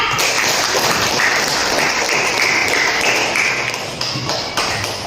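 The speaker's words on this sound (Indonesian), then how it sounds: "Ya, tepuk tangan untuk kelompok 3." A classroom of students applauds a group after its presentation, a dense steady clapping that fades slightly toward the end.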